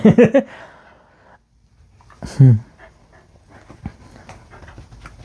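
A pet dog gives a quick, loud burst of breathy panting up close, then a second short burst after a quiet pause, with no talking.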